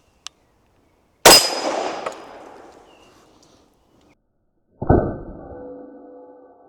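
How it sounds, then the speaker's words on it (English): A loud gunshot from a 460 Rowland handgun firing handloaded rounds rings out with a long metallic decay, then a second sharp clanging shot follows a few seconds later, suggesting impacts on steel targets downrange. "I've got some steel downrange that we're going to shoot at"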